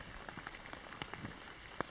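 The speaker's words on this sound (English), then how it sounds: "and it's raining" Steady rain pattering through the woods, with soft, irregular drops tapping close by and no voices.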